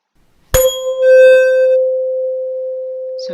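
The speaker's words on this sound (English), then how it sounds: "So now the tuning fork is producing a sound" A tuning fork is struck once with a sharp metallic tap, then rings as a clear, steady pure tone that holds strongly and evenly for several seconds, with faint overtones fading early.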